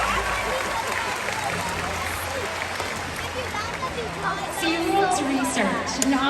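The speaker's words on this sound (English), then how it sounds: "Everybody give a round of applause for Tony." Audience applause at a SeaWorld San Antonio concert venue, a steady roar of crowd clapping under murmured chatter, swelling slightly in the last seconds as whistles and cheers rise.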